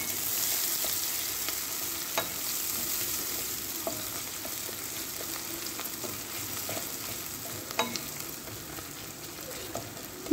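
Onions fry in a pan with whole garam masala and green chillies. The sizzle is soft and continuous, with light stirring clicks here and there and no speech.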